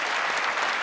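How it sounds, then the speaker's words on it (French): A studio audience at a French TV show breaks into applause, a brief, steady burst of many hands clapping. "applaudissements pour l'Est républicain qui a fait une jolie photo"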